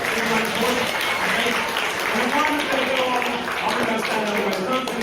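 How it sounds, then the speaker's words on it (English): An audience at a live children's book event gives a round of applause, a dense, even wash of clapping that runs steadily throughout with voices faintly mixed underneath. "can we get all a big round of applause"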